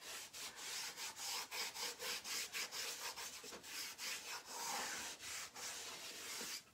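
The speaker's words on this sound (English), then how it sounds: "I'm just going to enhance it even more by applying that dark wax in the crack." Dark wax rubbed by hand into a crack on a Chalk Couture craft piece: about a dozen quick, rhythmic scrubbing strokes, close and fairly loud, with short gaps between strokes.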